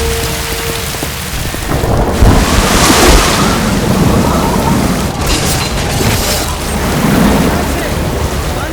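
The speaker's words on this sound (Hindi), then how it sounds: "पानी का बहाव बहुत तेज है," Swollen Sirsa river water rushes fast and loud in an animated film scene, a dense, steady roar of churning flow with deeper surges and rumbles throughout, no voices.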